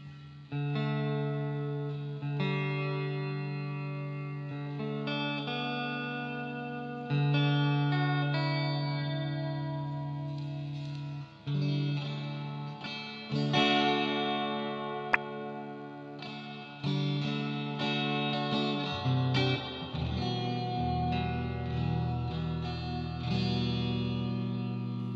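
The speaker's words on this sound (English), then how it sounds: "Bit too much reverb." A Fender Custom Shop Splintercaster electric guitar plays sustained, distorted chords drenched in heavy reverb, each note ringing and smearing into the next.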